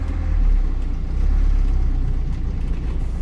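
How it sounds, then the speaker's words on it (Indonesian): A long-distance bus pulling away from Terminal Ubung toward Gilimanuk port in Bali, heard from inside: a steady low engine rumble with a mild rise as it gets moving, continuous and close, with no voices. "bus mulai berangkat."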